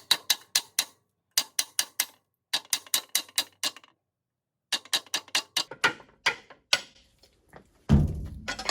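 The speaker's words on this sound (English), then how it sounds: "holding the retainer wrench in place, I'm going to just tap the top and hopefully loosen up this retainer nut" A rubber mallet tapping a retainer wrench on a Mercruiser upper unit retainer nut, sharp close knocks in quick bursts of four to six, then a louder clattering jolt as the nut gives way.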